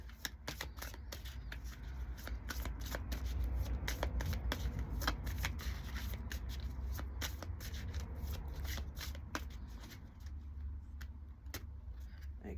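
Healing Heart Oracle cards being shuffled by hand, a long run of quick riffling and flicking card snaps, close and fairly quiet over a low background rumble.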